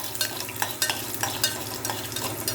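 Okra sautés in a little oil with salt, a moderate sizzle broken by quick, rhythmic stirring scrapes and taps of a spatula against the pan, no one talking.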